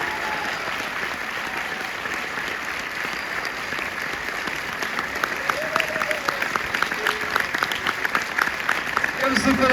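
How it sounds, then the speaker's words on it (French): Cinema audience at a film premiere keeps clapping in a continuous dense roll that grows a little louder and more emphatic toward the end, with some voices and calls beneath it. "Allez, on les applaudit encore"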